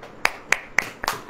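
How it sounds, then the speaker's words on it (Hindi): Four crisp, evenly spaced hand claps at a steady, moderate pace, close and clear with nothing else heard. "ताली बजाइए। ताली ऐसे नहीं, ऐसे बजती है।"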